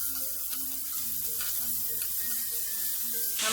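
Chicken pieces for kizhi biriyani frying in hot oil, turned one by one, with a steady close sizzle and faint scraping under it, no talk, and a brighter burst of crackle near the end.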